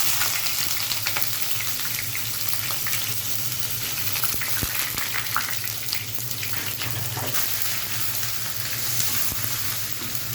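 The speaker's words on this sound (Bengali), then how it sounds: "তেলটা গরম হলে এর মধ্যে দিয়ে দিব পেঁয়াজ কুচি।" Chopped onion fries in hot mustard oil in a pan, giving a steady crackling sizzle with faint stirring, fairly quiet and unbroken throughout.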